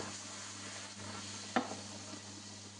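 Chicken belly pieces sizzle softly in a pan with browned onions and bay leaf, a faint, even hiss broken once by a sharp clatter partway through.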